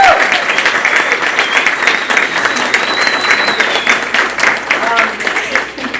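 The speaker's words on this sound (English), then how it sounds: "Let's a round of applause." Audience at a DCRHS board meeting applauding, dense sustained clapping held at an even level for several seconds, close and loud.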